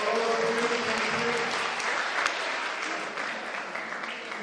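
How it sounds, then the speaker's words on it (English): School talent show audience applauding: a dense, steady roar of many hands clapping together in a hall, continuous and fairly close, slowly easing off. "you can give us a nice round of applause"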